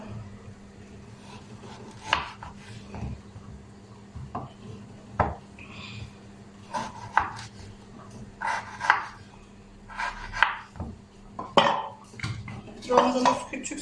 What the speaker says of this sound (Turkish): Evet şimdi doğrayalım limonlarımızı